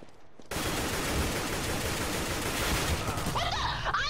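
Sustained automatic gunfire in Counter-Strike: Global Offensive starts abruptly and runs loud and steady for several seconds. Brief voice-like sounds come in at the end.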